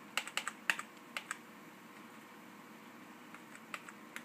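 Keys on a computer keyboard are pressed repeatedly during boot of a file server with a SuperMicro motherboard, giving sharp, close clicks in a quick cluster at first, then sparser taps in a quiet room.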